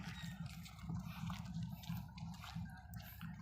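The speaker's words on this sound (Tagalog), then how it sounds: "Ang lakas ng agos ng tubig." Strong current of river water rushing and churning, a steady low rumbling flow with splashy texture, faint and continuous with no voices.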